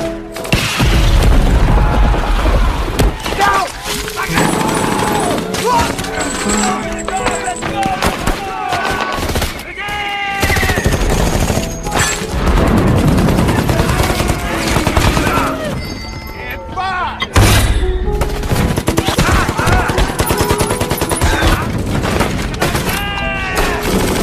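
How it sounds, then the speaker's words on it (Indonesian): Battle in the war film Hacksaw Ridge: heavy bomb blasts and rapid gunfire from Japanese soldiers, with repeated deep booms, bursts of machine-gun fire and sharp shots, all dense and loud throughout, with shouting voices mixed in. "ledakan bom dan tembakan brutal dari para tentara Jepang"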